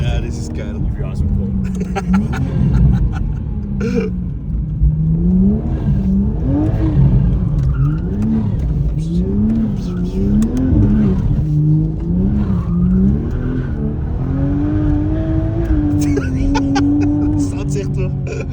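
A Toyota Supra MK5 slides sideways on a wet road. Its engine rises and falls in loud, wavering revs with a faint tire hiss underneath, and someone talks over it.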